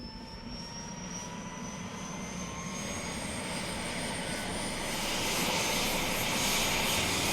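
A helicopter flies close to an erupting volcano, its steady engine and rotor roar filling the scene and slowly swelling louder, with broadband rumble and a faint high whine, no voices.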